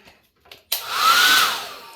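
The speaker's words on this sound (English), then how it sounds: "Hair dryer works" A hair dryer in a hotel room switches on abruptly after a quiet moment, its steady whooshing roar swelling slightly with a rising whine, close and loud.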